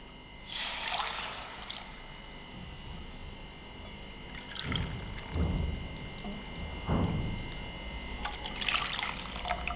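Strained rosella fruit juice trickles and drips into a measuring cup, a soft, close liquid pour with a few louder splashy bursts against a quiet kitchen background.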